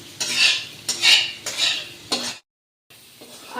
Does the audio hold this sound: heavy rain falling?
no